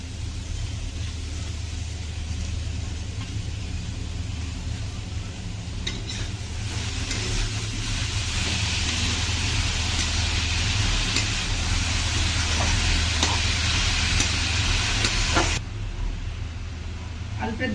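Banana flower is stir-fried in a pan, giving a steady sizzle that swells in the middle with stirring scrapes, over a constant low hum, ending abruptly near the close.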